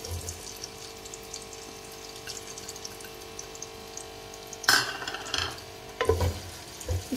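A medium onion sizzles quietly in half a cup of cooking oil, a soft steady frying hiss, then stirring clatters and scrapes come through in short bursts near the end.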